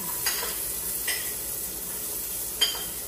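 Onions are added to a pot for an Ilocano beef sinanglaw and stirred, with a faint steady sizzle broken by three sharp clinks of a utensil against the pot.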